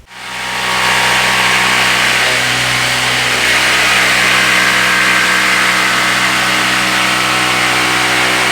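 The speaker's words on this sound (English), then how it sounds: "now I need to cut this out with my jigsaw" A jigsaw runs continuously and loud up close, its steady whine and buzz carrying through a cut along a template for a bent laminated rail of a dining table, with no pauses.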